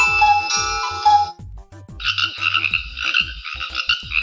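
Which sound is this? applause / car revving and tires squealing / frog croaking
frog croaking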